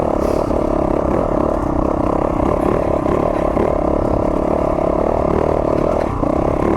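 Yamaha YZ450FX dirt bike riding over rocks, a loud steady engine roar with clattering and scraping mixed in, constant throughout with no pauses.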